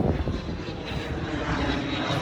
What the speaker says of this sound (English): Planes fly overhead.